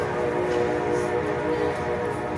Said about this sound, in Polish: Pociąg gdzieś przejeżdża